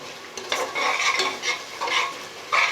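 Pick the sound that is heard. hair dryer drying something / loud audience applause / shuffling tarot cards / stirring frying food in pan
stirring frying food in pan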